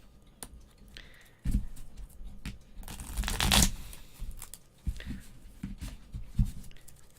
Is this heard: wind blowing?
no